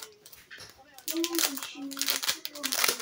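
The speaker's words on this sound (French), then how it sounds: "celui-là, je vais vous le déballer" Plastic packaging from a Temu haul item crinkles and rustles in bursts as it is unwrapped, with a voice speaking alongside.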